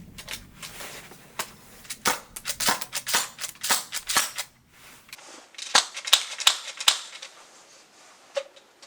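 Airsoft shotgun powered by CO2 fires a rapid string of sharp, snappy pops, nearly a dozen in quick succession, followed by a few louder spaced shots near the end, with no talk.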